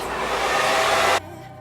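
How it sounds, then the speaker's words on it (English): A hair dryer blowing on natural hair, a steady close whooshing roar that cuts off sharply to a low residual hum. "we're going to do a possible voiceover speed up version of me drying my hair"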